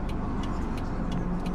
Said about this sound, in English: It's just traffic.